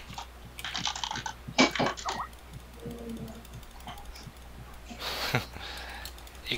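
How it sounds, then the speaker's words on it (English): Clattery computer keyboard typing in irregular bursts, with loud clicky keystrokes close by and brief pauses between flurries. "Keyboard is so loud."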